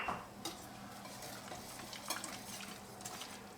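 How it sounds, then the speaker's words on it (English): Whisk stirring espagnole brown sauce with roux in a pan, faint scraping and soft clinks of metal against the pan in an irregular rhythm, close and quiet with no talk. "And we need to whisk it around a little bit."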